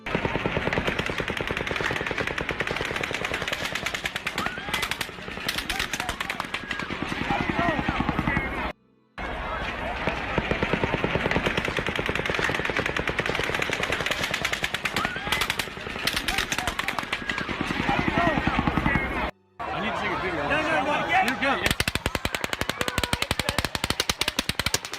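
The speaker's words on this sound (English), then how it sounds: "Two different shots being fired." Rapid bursts of automatic gunfire crackle continuously and loudly, with two brief silent gaps, and sound like a recording of a mass shooting.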